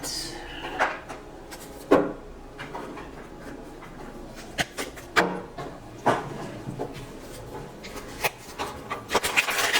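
Tarot cards being shuffled close by, with soft papery rubbing and riffling bursts that repeat irregularly throughout, with no talking.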